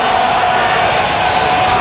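A huge stadium crowd roars and cheers steadily at the Sydney Football Stadium during a 1993 football match between the Socceroos and AC Milan, a dense, continuous wall of voices with no pauses.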